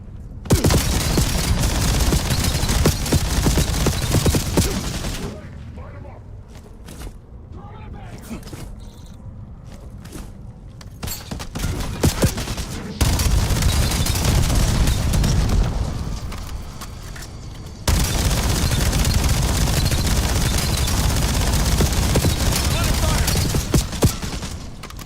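Video game gunfire bursts at an enemy in loud, dense volleys that stop for a quieter stretch with scattered shots and resume twice, with a voice talking over parts of it.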